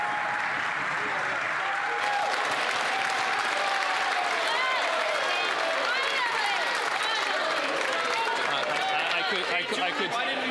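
Sustained applause from a large crowd fills a parliamentary chamber during Question Period, dense clapping with scattered voices and cheers mixed in, steady and loud throughout.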